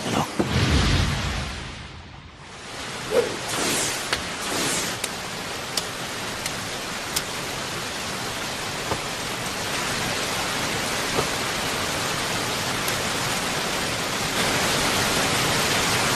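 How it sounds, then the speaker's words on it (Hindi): Rain falls in a Naruto vs Sasuke anime battle scene as a dense, steady hiss. A louder splash comes early, then faint clicks and drips sound over the continuous downpour, and no one speaks. "बारिश हो रही है"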